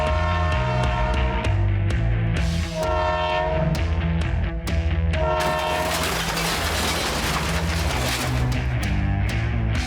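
A loud train horn blasts in repeated long tones as a train passes close by, wheels rumbling and clattering steadily over the tracks.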